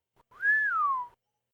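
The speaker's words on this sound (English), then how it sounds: "Chet Morton whistled." A single clear whistle from a person, a smooth rising-then-falling tone lasting under a second, close and alone against silence.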